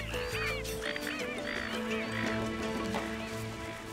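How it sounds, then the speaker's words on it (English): Migratory shorebirds, including red-necked stints, calling at an urban wetland; a dense chorus of overlapping chirps and whistles runs steadily throughout, with no talk. "see the threatened migratory shorebirds that come to visit"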